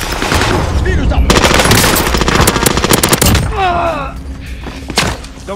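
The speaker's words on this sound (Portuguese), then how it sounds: "Estão atirando aqui." Gunfire in Call of Duty Warzone on Rebirth Island: loud, dense bursts of rapid automatic fire and single shots, a heavy volley in the middle, then thinner shots with a brief voice near the end.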